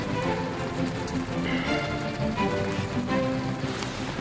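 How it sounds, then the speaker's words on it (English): Rain falls outside a parked Tesla car, an even, dense patter that holds steady throughout with no talking. "It's raining, y'all."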